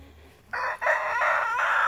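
Chickens give loud, drawn-out calls close by, one after another, with a short gap, sounding like a rooster crowing among the flock.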